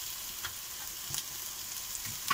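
Meat and onions frying in a kazan for braised potatoes, a steady close sizzle with small crackles and a couple of sharper pops, no voices.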